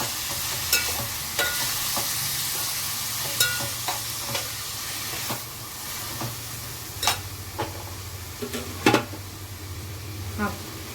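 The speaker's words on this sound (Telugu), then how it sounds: "బాగా కలుపుకోవాలి." A tablespoon of salt is stirred into a mixture for egg masala with a spoon that scrapes and clinks against the pot in irregular strokes. A soft, steady sizzle runs beneath, with no talk.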